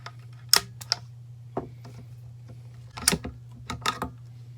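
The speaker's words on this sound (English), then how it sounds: "the first thing we're going to want to do is take this bolt out." The bolt of a pre-64 Winchester Model 70 rifle is worked and drawn out. Several crisp metallic clicks and slides sound up close over a low steady hum.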